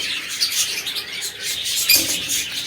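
Small exotic pet birds chirp and tweet busily close by, a rapid, overlapping chatter of high calls with a brief flutter partway through.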